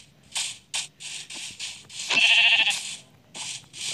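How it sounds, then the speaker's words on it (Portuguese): Repeated sheep bleats from the video game Minecraft, a series of short, evenly spaced calls with one longer, louder bleat in the middle, close and clear without talk. "Olha, tem ovelha aqui."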